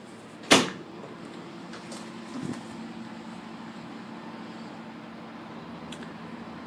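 Rear dual doors of a 2014 Ram Promaster van make a single sharp metallic slam up close, followed by a softer thud and a low steady background hum.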